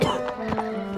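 Horse hooves clip-clopping in The Witcher 3 video game, a quick run of close, distinct hoof strikes over about a second, set against steady tonal in-game music or ambience.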